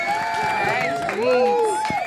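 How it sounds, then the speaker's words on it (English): Audience applause and cheering at a live political debate event, a dense burst of clapping with whoops and shouting voices layered over it, loud and steady for the whole stretch. "Big round of applause to Jermaine Streets."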